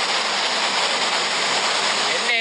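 Floodwater rushing during a cyclone in Sri Lanka, a loud, dense, unbroken roar of flowing water like a torrent, steady from start to finish, close by.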